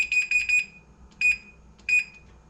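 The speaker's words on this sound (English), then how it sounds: "So I'm just going to put the timer for" A kitchen oven timer being set while baking blueberry oatmeal muffins: a quick run of shrill electronic beeps, then two single beeps spaced apart, close and clear with no talk.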